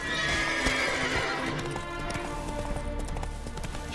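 Horse galloping in The Witcher 3, steady hoofbeats running throughout with a whinny near the start, over a dense, loud game soundscape.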